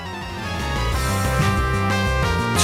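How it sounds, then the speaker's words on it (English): Unfinished placeholder music from the Pokemon Brilliant Diamond and Shining Pearl video game, a busy synthesized tune with a bouncing bass line and layered tones, playing steadily and loud without any voices. "he had the unfinished placeholder music that sounds like this."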